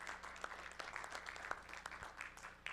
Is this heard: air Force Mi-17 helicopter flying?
no